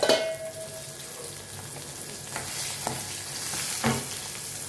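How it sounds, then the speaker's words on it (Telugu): Green chillies fry in hot tempering oil with a close, steady sizzle, punctuated by a few sharp pops and light utensil clinks. "ఈ పచ్చిమిరపకాయలు వేసేయాలి. వేసేసి ఒక 2 నిమిషాలు ఉంచేసి తీసేసేయాలండి."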